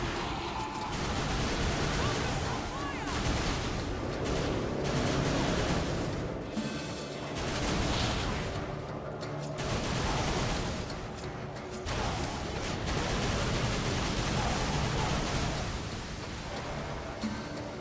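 Sustained turret gunfire in the action video game Darksiders 2, a loud, continuous barrage of rapid shots and explosive blasts lasting throughout, with brief dips between bursts and no voices.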